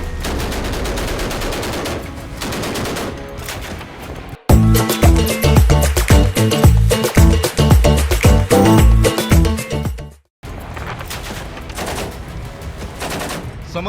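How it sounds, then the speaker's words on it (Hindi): Live cannon and gun fire during Russian naval exercises at sea, heard as loud, dense bursts of rapid shots in a sustained barrage, with heavy background sound before and after. "तोप और गन से लाइव फायरिंग हो रही है।"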